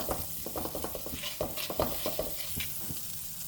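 Butter melting in a pan before garlic, onion and ginger go in, a soft continuous sizzle close up with light stirring scrapes and taps, no speech.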